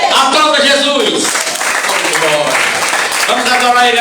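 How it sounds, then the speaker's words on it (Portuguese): Church congregation applauding during a deliverance service, a steady dense wash of clapping throughout, mixed with cheering voices and a preacher speaking over it. "Aplauda Jesus"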